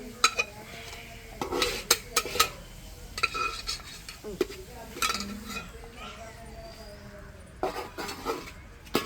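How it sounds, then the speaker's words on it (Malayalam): Kappa biryani stirred in a pot with a ladle produces a run of sharp metallic clanks and scrapes in uneven bursts, close by, while people talk over it. "ഞാൻ ഈ തവിയായിട്ട് ഇളക്കാം."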